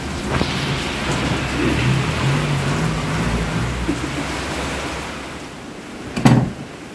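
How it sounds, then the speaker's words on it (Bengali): Steady, fairly loud rain falls around a home at night in a continuous hiss with low rumbles, and a short, heavier thump or gust comes near the end; nobody speaks. "বৃষ্টি নেমেছে"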